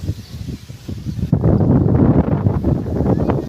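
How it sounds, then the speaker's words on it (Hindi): Wind blows outdoors in a village, buffeting the microphone in uneven gusts that grow stronger and more sustained after the first second before cutting off abruptly. "ऊपर से हवा चल रही है"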